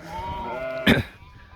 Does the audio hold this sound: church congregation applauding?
no